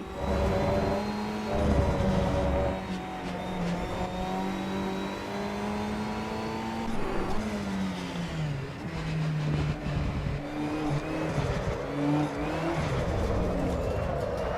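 A KTM GT race car engine in Assetto Corsa EVO at the Kyalami circuit, a steady loud whine rising and falling through gear changes with no talk over it.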